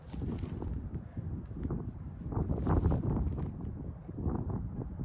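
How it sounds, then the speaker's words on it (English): Steady wind buffets the microphone in a low, continuous rumble on a disc golf course, gusting louder midway, with faint rustling and no one speaking. "it's windy too."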